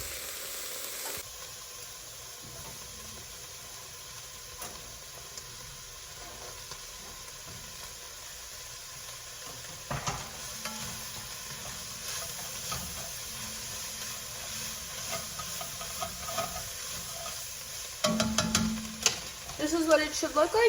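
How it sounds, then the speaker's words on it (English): Carrots and celery added to a pot of onions for chicken noodle soup, a soft steady sizzle with occasional scraping stirs, growing busier toward the end. "we're gonna add our carrots and celery into our pot."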